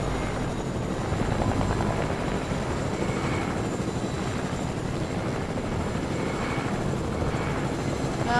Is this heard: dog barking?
no